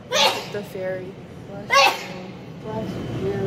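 Two sharp, breathy sneezes about a second and a half apart, close by, with a voice speaking between and after them.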